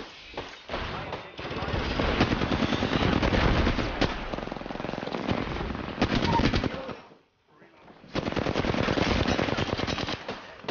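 Sustained automatic gunfire in the battle royale shooter Apex Legends, loud and dense bursts with a brief pause near the end before firing resumes.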